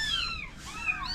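Kittens meowing in the Philippines, several thin high-pitched mews overlapping close by, during a rainy spell of flooding in Mindanao.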